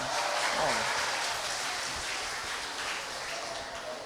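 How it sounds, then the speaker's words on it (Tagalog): A congregation applauds during a homily at a novena Mass for Our Lady of the Sacred Heart, a steady wash of clapping that fills the church for about four seconds, with a voice faintly audible underneath. "Palakpak kayo ng palakpak"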